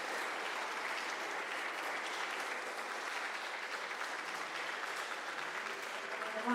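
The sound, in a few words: applause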